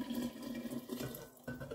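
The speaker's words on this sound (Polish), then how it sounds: "Więc teraz zalewamy tą wodą" Cooled water poured from a container over beets to make beet sour, a soft, quiet splashing trickle that runs steadily, then briefly breaks off and resumes.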